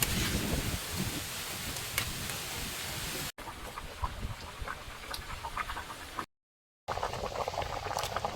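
Pot of mung dal and taro pieces boiling, a steady bubbling and gurgling simmer heard close and moderately quiet, broken by brief gaps of silence.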